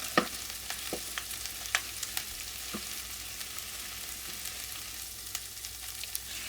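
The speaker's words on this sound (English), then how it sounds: "Now I'll add in our ground beef. And I'm going to break that up before it starts to brown." Ground beef frying in a pan while a utensil breaks it apart, a soft steady sizzle dotted with irregular scraping taps, close and fairly quiet with no talking.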